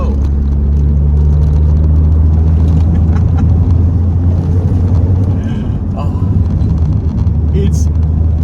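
A second-generation Lancia Delta hot hatch is being driven, with a loud, constant low engine drone and road rumble heard from inside the car for the whole stretch.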